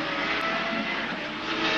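IndyCar race cars on methanol fuel climb a hill, their engines a continuous loud roaring drone with a slight swell toward the end, heard alone without talk.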